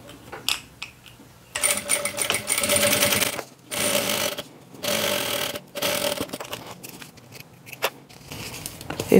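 A sewing machine stitches fabric pieces together for a round children's waist bag, running in several bursts of rapid, steady whirring separated by short pauses, close and fairly loud.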